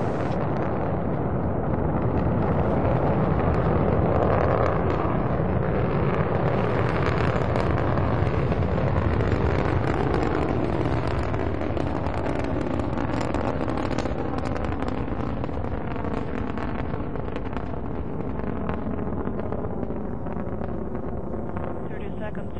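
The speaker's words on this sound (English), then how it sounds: "Liftoff of the Soyuz rocket transporting Jeff Williams, Pavel Vinogradov, and Marcus Pontes to their microgravity home in space" Soyuz rocket carrying a three-person crew lifting off, a continuous, dense, thunderous roar that fills the whole 22 seconds at steady high level, with faint wind-like rushing on top.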